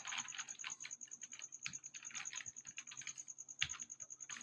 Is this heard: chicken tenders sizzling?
no